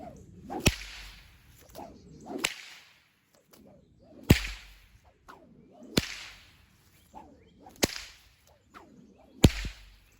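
Six sharp, loud whip cracks from a 6 ft snake whip weighted with BBs, spaced a second or two apart, each preceded by a brief swishing whoosh, with quiet pauses between.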